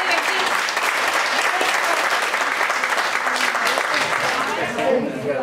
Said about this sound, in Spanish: un aplauso para todos y entre aquí